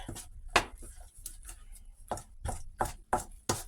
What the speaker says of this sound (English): So I'm just going to stir it.